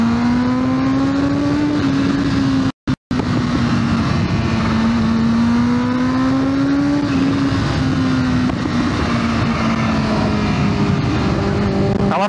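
A Kawasaki ZX25R motorcycle engine drones loudly and continuously on a ride through Kuala Lumpur. Its pitch rises and falls gently with the revs, and the sound cuts out briefly once.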